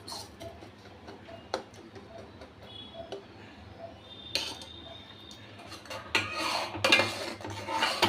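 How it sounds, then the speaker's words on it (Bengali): Sugar melting into caramel in a pan for mango payesh made with Gobindobhog rice, stirred with a spoon: light metallic ticks and scrapes, sparse at first and growing busier and louder toward the end, close by with no talk. "পাঁচটা দিকে নেড়ে নেড়ে দিচ্ছি চিনি একদম গলে গেছে"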